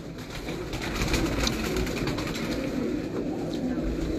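Pigeons cooing in a loft, soft low coos repeating over a constant background hum, moderately close.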